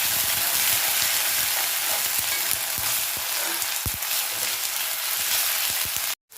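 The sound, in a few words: ginger garlic paste sautéing in pan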